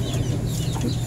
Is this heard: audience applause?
no